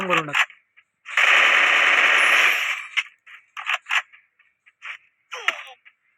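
Rapid automatic gunfire in the Free Fire mobile game, one long sustained burst followed by scattered short shots and game effects, loud and close, with players' voices briefly heard.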